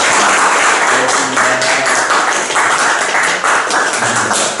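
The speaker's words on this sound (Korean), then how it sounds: "우리 혜택 선생님한테 큰 박수 보내는 걸로 오늘 좀 마무리하겠습니다" At the close of a Buddhist dialogue gathering in Seoul, a small audience gives a teacher loud, close applause: a thick, continuous patter of hands with no talking over it.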